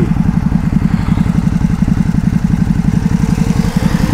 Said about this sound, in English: Bike sounds better, much better. It's a bit more raspy and deep.